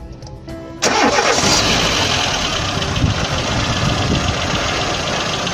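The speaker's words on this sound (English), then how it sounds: "let me go and start the engine" A car engine cranks briefly, catches, and settles into a steady, close idle that runs without a break.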